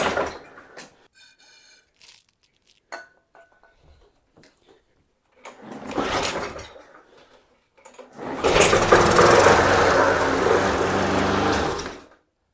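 A small petrol engine on a lawn mower or rotavator, slightly seized at first, sputters briefly, then catches and runs steadily and loudly for several seconds before cutting out, after scattered handling noises and quiet gaps.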